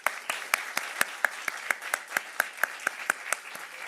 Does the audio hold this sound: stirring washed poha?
no